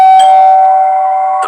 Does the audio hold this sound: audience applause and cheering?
no